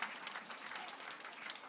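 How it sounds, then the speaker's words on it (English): An audience claps for a panel at a finance forum on funding early-stage scale-up companies, a steady wash of applause from a room of investors and entrepreneurs, fairly soft and continuous throughout. "can we have a round of applause for the whole panel so far?"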